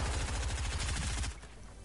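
Rapid automatic gunfire in an online shooter game, a steady, loud stream of quick shots that stops abruptly near the end, leaving quieter game ambience.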